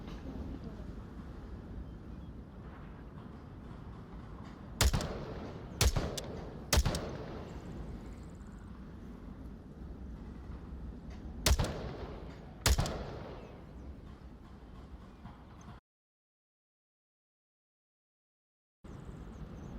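Gunshots from sniping in a VR first-person shooter played with Quest Pro controllers, five sharp cracks at irregular intervals, two close together then a third, and a later pair, over a steady background hum that cuts out briefly near the end.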